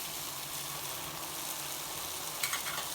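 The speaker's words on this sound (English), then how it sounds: "Now we are going to add the tomatoes and keeping the flame on high itself" Tomatoes and green chilies sauté over a high flame for biryani, giving a soft, steady sizzle and faint stirring scrapes. The sound stays quiet and even throughout, with no one speaking.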